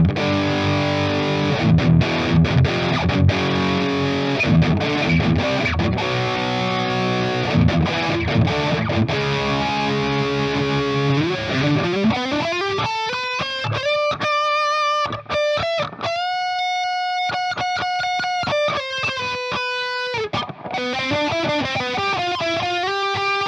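A modded beginner electric guitar on bridge and middle pickups plays high-gain distorted metal, chugging chords giving way to sustained bending lead notes, loud and alone throughout.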